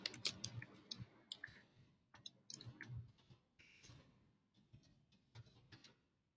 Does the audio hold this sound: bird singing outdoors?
no